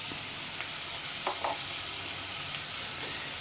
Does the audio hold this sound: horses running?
no